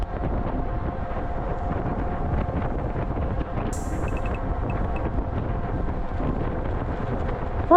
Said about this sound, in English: Pretty strong headwind here